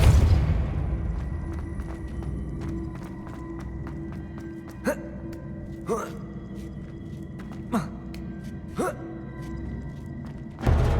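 Depulso force spell casts in Hogwarts Legacy, several short whooshing blasts with thuds spaced a second or two apart over quiet game ambience, with soft dull impacts at the start and end.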